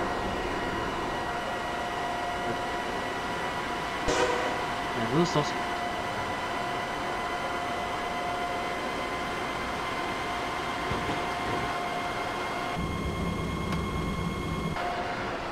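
A steady hum of a train engine and motor runs in the game Train Simulator 2017 on the Köln–Koblenz line, with tonal whine and a low rumble swelling near the end, while someone talks briefly over it.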